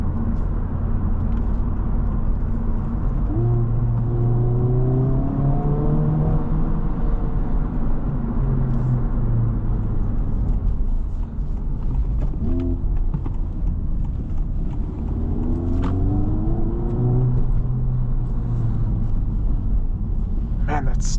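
A 2025 Honda Civic Type R driving, its engine note rising and falling through gear changes as a low steady drone inside the cabin, with road rumble underneath and a person talking over it.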